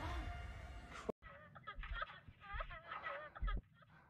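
Bird calls from the horror video game The Devil in Me: a loud burst of noise cuts off abruptly, then a run of squawking, warbling cries follows at close range over about three seconds, with a short heavy thud near the end.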